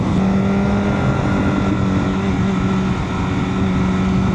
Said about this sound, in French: je teste une moto mais... d'exception